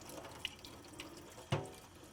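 Running tap water rinses a welding arc shield assembly with grooves, Velcro and pivots in a sink, a faint steady trickle with a brief splash near the end.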